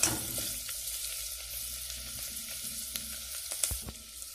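Rice and spices sizzle steadily in a hot pan while being stirred, with close, crackling frying and occasional scraping knocks of the utensil.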